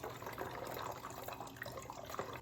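Homemade root beer solution poured into a bottle, a faint, continuous liquid trickle and gurgle running steadily throughout with no talking.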